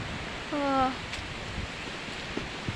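Strong wind blows outdoors in a steady, close broadband rush, with a brief whistling whine partway through.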